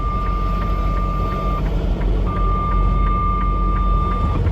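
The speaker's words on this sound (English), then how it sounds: "All of that dinging y'all hear is from the cars on the right" Repeated electronic dinging chimes from nearby cars ring in a steady rhythm over a constant truck and traffic rumble, no talking.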